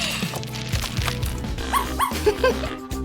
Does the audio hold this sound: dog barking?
yes